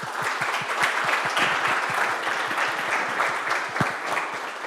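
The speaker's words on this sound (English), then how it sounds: "let's clap and thank Fede again" Applause from a workshop audience thanking a speaker-diarization lecturer, a steady dense wash of many hands clapping throughout, close and fairly loud with no voices over it.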